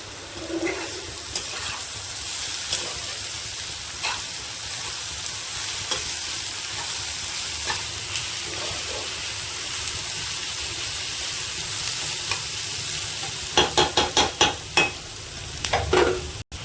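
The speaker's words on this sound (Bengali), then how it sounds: "এটা একটু ভাজা ভাজা হতে থাকবে" Bori with torn green chillies fries in a pan, a soft continuous sizzle under occasional stirring scrapes, with a brief burst of sharper clattering and sputtering near the end.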